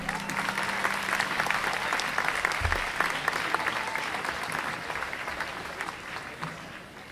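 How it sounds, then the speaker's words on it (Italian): Steady audience applause welcoming the mayor of Domodossola at a Palm Sunday vigil, dense clapping throughout that eases slightly toward the end, with a brief voice early on. "Facciamo a lui un grandissimo applauso."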